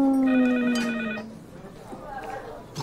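A telephone bell rings with a bright sustained trill, loud and close, then cuts off; voices chatter faintly afterward.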